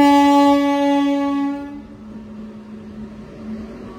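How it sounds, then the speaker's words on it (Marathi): A long, loud Indian Railways passenger train horn blast fades out, leaving a low rumbling roll of the slow-moving train along the tracks near a level crossing. "ही ट्रेन बघ किती हळू येते."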